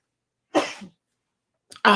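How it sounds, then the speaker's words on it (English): A sharp nasal burst breaks the silence, followed a moment later by a quick inhale and a second louder, explosive sneeze, close and alone. "I've got to sneeze."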